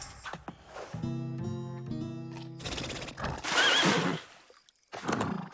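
A horse whinnies loudly and close, a long shaky neigh, with brief noises and snorting around it.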